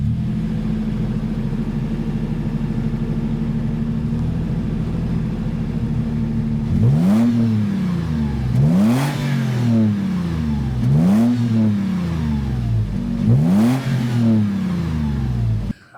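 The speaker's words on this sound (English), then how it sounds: "on the TRD Pro, you do get a TRD sport tuned exhaust." A 2024 Toyota 4Runner TRD Pro V6 with TRD sport tuned exhaust idles steadily, then revs sharply four times in an even rhythm, each blip swelling and falling back, loud and close.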